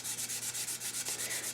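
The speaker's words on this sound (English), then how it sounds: "Sometimes you have to sand up and down, and sometimes you have to sand across" Close, rhythmic hand sanding of the finish on a large maple vase: quick back-and-forth scrubbing strokes rasp evenly, about seven or eight per second, with no voices.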